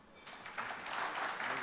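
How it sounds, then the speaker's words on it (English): Audience applause during a panel discussion at a conference event, a steady wash of clapping that swells after the first moment and holds at a moderate, even level for under two seconds. "I request a big applause for this"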